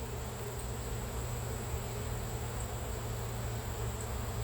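Honey bees buzzing around an open hive during a honey harvest, a faint, constant drone with a steady hum and no clear breaks.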